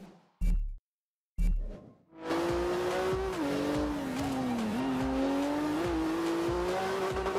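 A rear-wheel-drive car cornering in Forza Horizon 2: two short thumps, then a sustained engine drone with a wavering pitch and tire squeal as it works through corners, loud and continuous.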